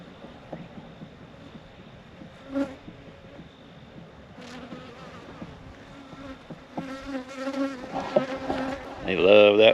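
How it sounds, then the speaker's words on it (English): Bees buzz around bee balm flowers outdoors, a close insect drone that comes and goes, growing louder and busier toward the end as a bee passes near. "Oh, there's a bee on some bee balm again."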